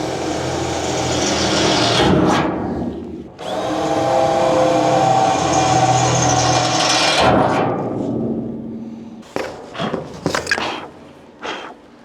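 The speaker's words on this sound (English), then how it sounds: "and drill your holes." A power drill bores drainage holes through a horse trough: two long, loud grinding runs with a brief pause between them, followed by several short bursts of drilling and clatter.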